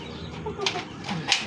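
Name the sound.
chickens clucking and flapping wings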